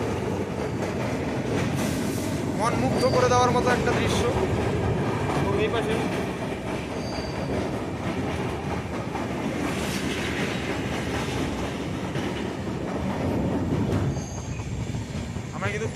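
Train running over a bridge across the Teesta river near Coronation Bridge, a steady loud rumble of wheels and carriages throughout with occasional squeals, while someone talks over it.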